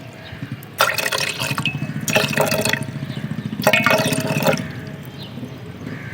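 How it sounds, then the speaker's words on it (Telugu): Water, about 500 grams, poured into a container in three separate splashy streams with short pauses between, close and loud over a low steady hum. "500 గ్రామ్స్ వాటర్ అయితే నేను పోస్తా."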